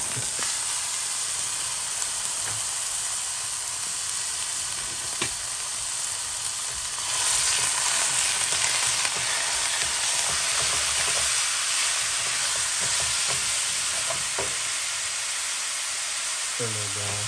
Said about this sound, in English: cook this ground beef. It should cook pretty quick.